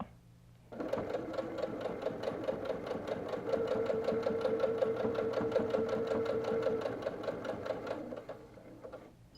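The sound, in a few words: sewing machine stitching quilted four patch coaster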